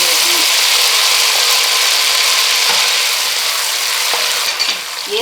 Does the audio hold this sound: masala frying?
yes